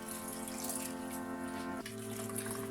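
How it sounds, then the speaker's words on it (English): Warm soapy water runs and splashes steadily while stripped painted nightstand furniture is wiped down, a continuous close sink-like wash with no talking. "wipe it down with warm soapy water"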